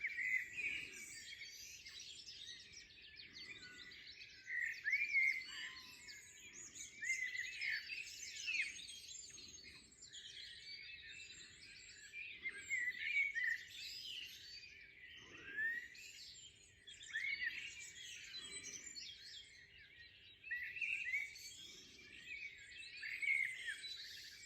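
Birds sing outdoors near a country wedding venue, with many overlapping chirps and trills running continuously for the whole stretch, soft to moderate in level, with no voices.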